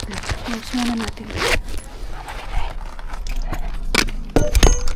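A bag's zipper is pulled shut in a few quick, scratchy runs, with knocks and rustling handling noises, while people talk nearby.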